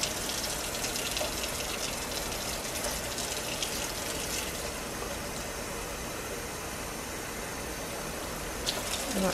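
Steady, loud rush of water pouring into the clean-water tank of a Neakasa Power Scrub vacuum, a constant gushing hiss that continues throughout without pause.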